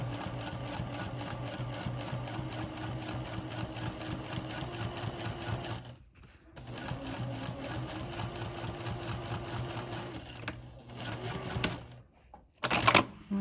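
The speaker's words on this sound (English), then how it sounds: "And continue top stitching." A sewing machine top stitching along a zipper, running in fast rhythmic clattering bursts close by, pausing briefly twice and resuming, with a few handling clicks near the end.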